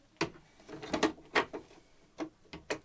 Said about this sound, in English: Take and put our stitch plate on.